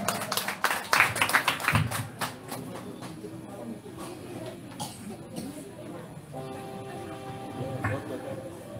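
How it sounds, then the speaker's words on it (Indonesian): An audience at an evening Maulid stage performance by Laskar Jabal Nur claps to welcome a speaker, with a loud burst of applause that fades into scattered taps and murmurs. "Tepuk tangan."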